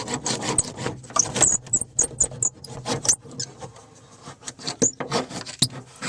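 A roller presses sound deadening mat onto a car panel in quick, close rubbing and squeaking strokes, with sharp crinkly clicks between the passes.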